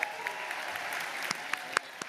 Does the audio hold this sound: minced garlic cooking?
no